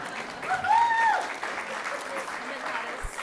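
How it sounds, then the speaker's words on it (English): An audience at a high school ceremony applauds students, a continuous spread of clapping hands with a whistle-like tone and voices mixed in, moderately loud. "we can give them a round of applause"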